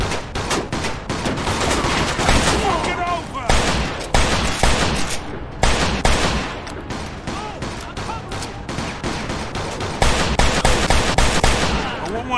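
Gunfire erupts in a Mafia 2 mission at a hotel, with dense bursts of automatic and pistol shots crackling loudly and almost continuously, punctuated by sharp louder reports.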